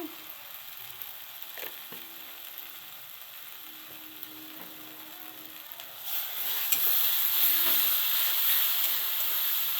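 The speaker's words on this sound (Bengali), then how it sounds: "একটু জিরের গুঁড়ো দিচ্ছি, একটু ধনের গুঁড়ো দিচ্ছি" Cumin and coriander powder frying in a pan, a soft hiss with occasional scraping stirs that swells into a louder, brighter sizzle partway through.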